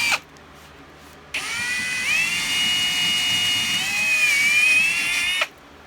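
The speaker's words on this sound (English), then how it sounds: "we're going to need to make the hole bigger. So we'll use our Amazon step bits and hole punch setup" A power drill spinning a step drill bit through a hole for an RC rock crawler build, a sustained high whine with shifting pitch lasting about four seconds, starting and stopping abruptly.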